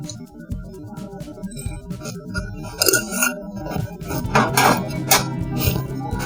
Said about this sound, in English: and then I will mix the dough.